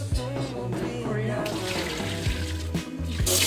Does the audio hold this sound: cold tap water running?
yes